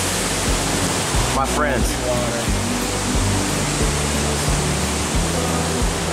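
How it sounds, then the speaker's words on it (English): A waterfall on a hike up Mt Sterling roars as a steady, full-band rush of falling water throughout, with someone briefly speaking over it near the start. "So here I am again, lucky enough to be by another waterfall."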